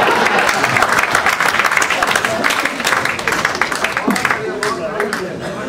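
An audience at a Hindi comedy poetry stage show bursts into loud, sustained applause, with dense rapid clapping filling the whole stretch and crowd murmur underneath.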